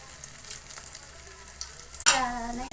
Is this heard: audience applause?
no